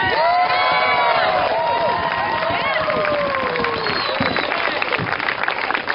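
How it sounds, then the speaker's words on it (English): Outdoor crowd at a May Day house reclaim rally cheering, whooping and clapping loudly and continuously, with shouts and high voices rising above the roar close by. "So give yourselves a big round of applause"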